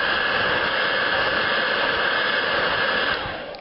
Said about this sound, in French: le décapeur thermique, ça chauffe et rapidement.